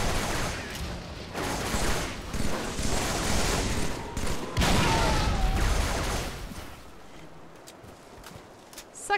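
Brute shot grenade launcher fire in Halo 3, a run of dense, loud explosive bursts and thumps that fill the first half, then thin out into quieter game noise toward the end.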